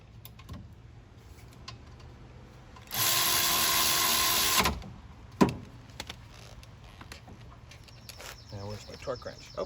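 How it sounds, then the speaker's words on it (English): An electric wrench tightens bolts while rear brake pads and rotors are replaced on a 2013–2016 Ford Escape, a single loud buzzing burst of nearly two seconds amid quieter clicks and handling noises. "I'm going to tighten them with the electric wrench"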